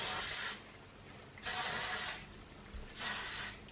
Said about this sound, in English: I will then again go in with the hairspray